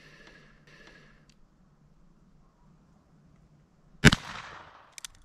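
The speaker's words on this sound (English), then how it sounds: "This is the Maxi-Mag CCI 22 hollow point. It's also a 40 grain jacketed hollow point." One sharp, loud shot from a Ruger Single-Six convertible revolver firing CCI Maxi-Mag .22 magnum 40-grain jacketed hollow points, with a brief ringing tail and faint clicks after, preceded by quiet outdoor ambience.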